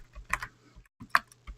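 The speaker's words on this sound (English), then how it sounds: "my keyboard kind of respond slowly" Typing on a computer keyboard while working on a CentOS Linux server, a few quick clustered keystrokes in two short bursts, close and moderately loud with a faint background hum.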